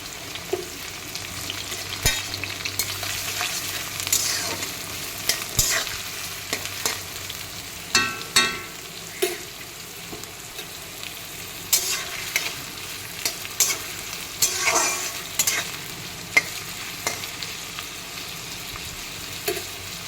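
Steady sizzling of onion, garlic and green chili frying in mustard oil, with frequent scraping and stirring clicks throughout and no talking.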